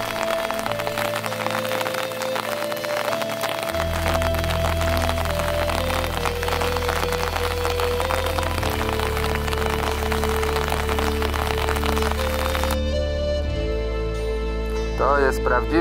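Steady rain patters over a lakeside campsite in Sweden, a dense continuous hiss with faint tonal hums and occasional cracks beneath it.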